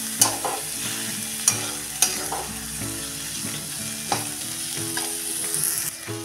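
Sliced tomato and onion being sautéed in a pan for a dry onion and papad chutney, a steady sizzle with a few sharp spatula clinks and scrapes over soft background music.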